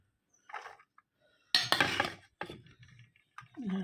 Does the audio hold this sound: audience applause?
no